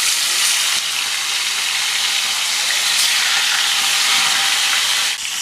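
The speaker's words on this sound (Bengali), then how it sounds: "দেখুন আমি ইলিশ মাছগুলো ভেজে তুলে নিচ্ছি।" Hilsa fish pieces fry in hot oil in a pan, giving a loud, continuous close-up sizzle and hiss with small crackling pops and no talking.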